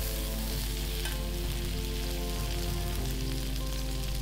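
Butter melts in a kadai for paneer butter masala, giving a dense, continuous sizzle and crackle, loud and close, with no talk over it.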